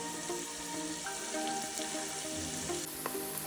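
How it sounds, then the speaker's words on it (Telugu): Onions frying in a pan for a Rajahmundry-style fry piece biryani give a steady, close, dense sizzle and crackle that continues throughout without any talking. "ఇక్కడ చూసారు కదా ఆనియన్స్ అనేవి బాగా ఫ్రై అయినాయి"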